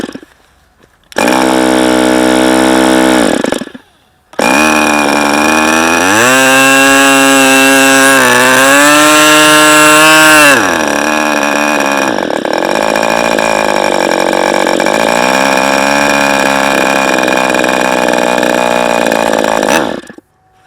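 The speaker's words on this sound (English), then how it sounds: "See, as soon as I get to full throttle, that's when it dies." A Fox 45BBRC model glow engine runs loud and close with a high, buzzy whine. It revs up and down through several throttle changes and briefly cuts out near the start. Near the end it drops to a rougher, uneven tone before stopping.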